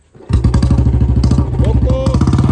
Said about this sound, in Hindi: चुपके से बाइक स्टार्ट करता हूँ